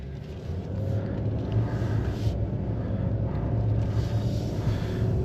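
A 2023 Nissan Titan Platinum Reserve pickup pulls away from a stop and accelerates, its engine giving a steady low rumble that builds slightly, heard from inside the cab without talk.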